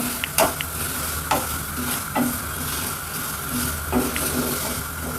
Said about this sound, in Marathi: पॅन गरम झाल्यानंतर आपल्याला ह्यात तेल आपले भाजून घ्यायचे आहेत व्यवस्थित थोडेसे लालसर होईपर्यंत आपण याला भाजून घेऊयात